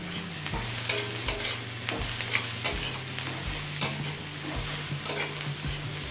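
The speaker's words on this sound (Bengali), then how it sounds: "গোটা গরম মশলা দিয়ে মিনিট 2-3 ভেজে নিলাম।" Crushed green cardamom, cinnamon stick and cloves frying in oil with lightly browned onions for chicken do pyaza: a steady close sizzle punctuated by spatula knocks and scrapes about once a second.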